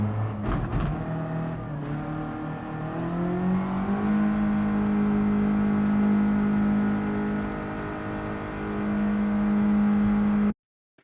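A Mazda MX-5 engine in Gran Turismo 7 lobby racing revs up after a few brief blips, then holds a steady, strong drone that climbs slightly and cuts off abruptly near the end.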